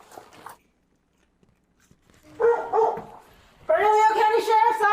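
A dog inside a house barks in two loud bursts after a stretch of near silence during a sheriff's deputies' standoff, with a brief voice heard at the very start.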